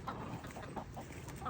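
Backyard garden chickens cluck in a few short, close bursts just before being fed grass, with no talking over them.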